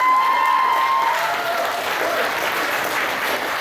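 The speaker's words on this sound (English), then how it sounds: "give them a round of applause" An audience claps loudly in a Who Wants to Be a Millionaire style game show at an anime convention. The applause is sustained with light cheering mixed in, and a brief tone fades out early on.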